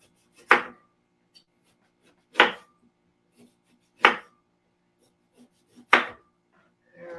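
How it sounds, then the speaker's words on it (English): A knife chopping through pear on a cutting board, four distinct evenly spaced thuds about every one and a half seconds, close and clear in an otherwise quiet kitchen. "I'm going to cut up some pear here."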